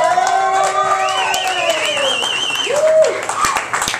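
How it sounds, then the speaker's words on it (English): A crowd at a kids' guitar school concert claps and cheers for young performers, with high whoops and shouts rising over sustained applause close by. "Give these guys a big round of applause."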